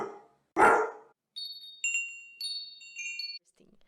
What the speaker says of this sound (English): I got some dog very far away